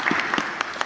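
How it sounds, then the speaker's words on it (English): Short burst of audience applause at a debate event on whether life needs God for meaning, a few distinct claps standing out over a soft wash of clapping. "Please a round of applause for them."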